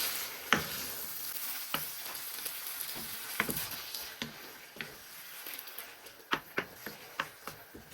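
A spoon scrapes and stirs a sloppy joe mixture with passata in a pan, giving scattered knocks and scrapes over a soft, steady sizzle, close and moderately quiet.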